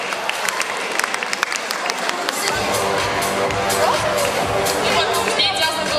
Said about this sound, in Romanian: Să le primim cu aplauze!